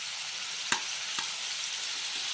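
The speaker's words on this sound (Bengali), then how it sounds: "মশলা দেওয়ার সাথে সাথে একটু নাড়া হচ্ছে।" Ground turmeric, cumin, coriander and chilli powders stirred into potatoes in a frying pan for a vegetarian soybean dish, giving a steady close sizzle with a couple of sharp utensil scrapes.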